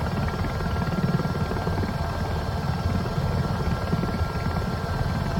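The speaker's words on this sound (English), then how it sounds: "Slow the chopper down a little bit." A Robinson helicopter slowing on approach in Microsoft Flight Simulator 2024 gives a steady, loud rotor and engine drone that fills the whole stretch without a break, with no voice over it.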